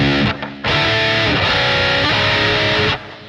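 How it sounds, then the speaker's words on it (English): Electric guitar with a dirty, heavily distorted tone and little echo or delay, played loud and close in thick sustained chords with a brief gap near the start before the tone cuts off at the end. "you're gonna need a dirty tone with less echo and delay"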